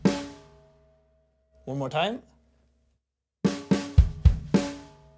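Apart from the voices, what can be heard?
drum groove, first rhythm played on drum kit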